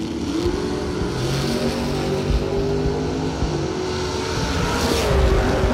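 Race cars including a Chevy II, car number 571, rumble steadily at a drag racing event, several engines droning and revving together at close range with a constant mechanical roar.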